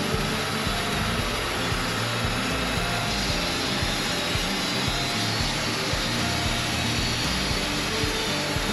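A Wood-Mizer sawmill runs steadily as its blade cuts through a log, a dense, loud, unbroken roar of engine and blade that holds constant throughout.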